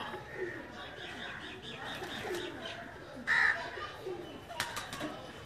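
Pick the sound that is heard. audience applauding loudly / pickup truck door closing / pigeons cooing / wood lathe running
pigeons cooing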